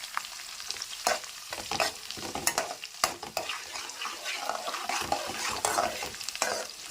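Curry leaves fry in a pan, giving a crackling sizzle broken by repeated stirring scrapes and spatula knocks at an uneven rhythm, close up with no talk.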